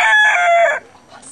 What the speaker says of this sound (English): So, here we have the Waimea Canyon Rooster,